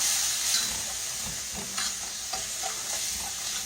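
Flour stirred into hot frying grease for chicken gravy in a pan, a loud steady sizzle and hiss with soft scraping stir strokes up close.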